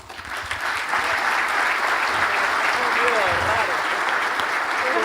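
An audience at a talk on the audiovisual service model breaks into sustained applause that builds quickly and holds as dense, even clapping.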